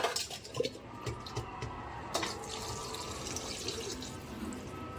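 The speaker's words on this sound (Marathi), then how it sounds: "आता याच्यात पाणी घालून" Water is poured into a pot of washed rice mixed for vegetable khichdi, a close splashing gush at first that settles into a softer trickle and fill, with no talk.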